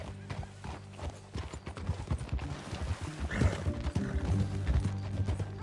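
Horse hooves clip-clop in a steady rhythm in Red Dead Redemption 2, close and moderately loud, with low game music or ambience underneath.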